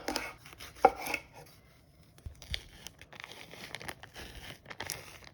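A knife slices Dominican frying salami on a cutting board, giving scattered soft cuts and crinkling, tearing sounds from the casing, close but quiet with irregular pauses.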